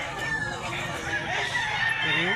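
A rooster in a rural Cebu yard clucks and calls softly at close range, a short run of throaty, wavering sounds over a faint background.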